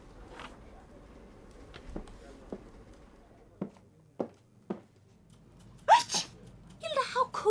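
A sneeze in the video game Murder in the Alps, a sharp burst of breath near the end, after a few soft thuds and clicks over a quiet background.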